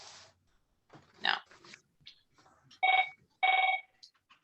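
A telephone rings in two loud, bright bursts, following some faint indistinct sounds.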